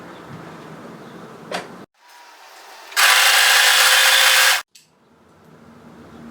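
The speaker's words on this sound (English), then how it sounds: "Fold it right sides together and overlock this long edge." An overlocker stitches along the long edge of a folded knit shoulder strap, a loud steady mechanical whir running for about a second and a half between quieter handling and rustling of fabric.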